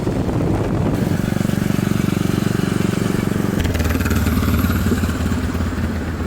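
Custom chopper motorcycle engine running loud and close, a steady rapid thumping idle that shifts to a rougher, busier tone partway through, heard alone without talk.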